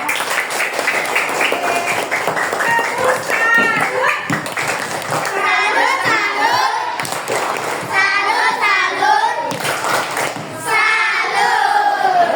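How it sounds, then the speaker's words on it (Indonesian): A classroom of pupils claps for a classmate, a lively stretch of scattered hand claps mixed with children's excited voices and chatter throughout. "beri tepuk tangan pada Mima."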